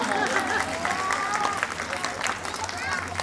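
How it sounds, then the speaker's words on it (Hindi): An audience claps at an outdoor Ramleela stage performance, a dense, continuous round of applause mixed with crowd murmur and faint voices. "तालियां बजा दो यार।"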